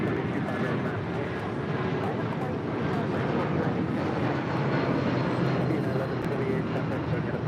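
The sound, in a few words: airplane taking off on runway 25 right at LAX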